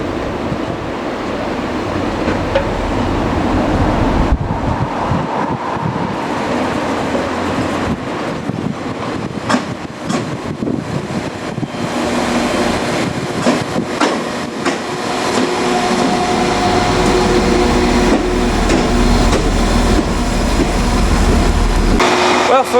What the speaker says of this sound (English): our train has arrived